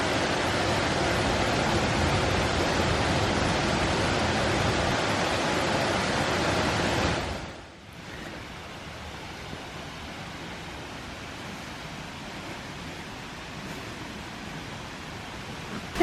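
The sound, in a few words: twin waterfall splashing on mountain hiking trail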